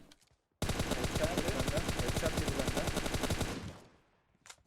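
Sustained burst of rapid automatic gunfire from an enemy in PUBG Mobile, a dense rattling volley lasting about three seconds before it trails off into a faint tail.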